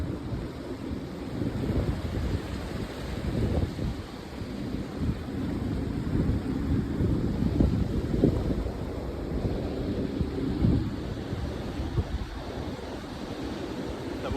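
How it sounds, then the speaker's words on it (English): Wind gusts buffet the microphone outdoors, a rumbling, uneven rush that swells and eases over steady background noise, with no talking. "It's a little windy, but not too bad."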